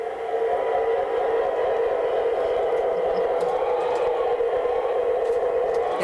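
A model train pulling a tank car lettered for the Eshbach Railroad rounds a curve on a layout, giving a steady, even running hum with a faint rumble that holds unbroken throughout.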